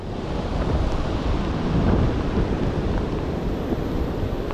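Strong wind roars over heavy sea waves crashing along the shore during monsoon rain, a dense, continuous rumble that stays loud and steady throughout with no voices.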